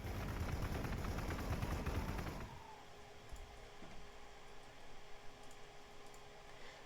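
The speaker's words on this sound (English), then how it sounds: "Fortress commander firing" Rapid automatic gunfire from a fortress commander in the strategy game Warhammer 40k Gladius, a dense loud burst for about two and a half seconds that cuts off abruptly into a quiet low ambient hum.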